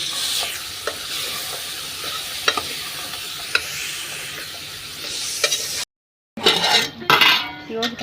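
Tomatoes going into a hot pot for red lentil dal: a steady sizzle and frying hiss with sharp metal clinks of a spoon stirring against the pot, then a brief cut and a burst of louder sizzling.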